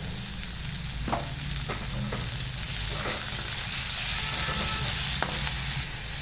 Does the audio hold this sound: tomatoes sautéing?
yes